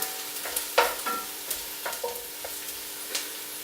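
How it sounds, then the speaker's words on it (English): Onions being stirred and turned over as they soften in a pan for an almond chicken curry, with soft sizzling and several scraping, clattering stirs spread across the stretch, no voices. "We just keep these turning over and keep moving around the pan so they don't burn too much."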